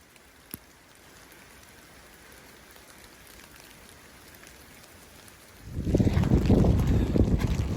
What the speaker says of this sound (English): So it's kind of drizzly coming down.